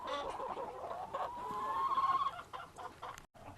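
Chickens clucking in their backyard pen, a steady stream of soft, close clucks and murmurs for a few seconds, with no talk over them.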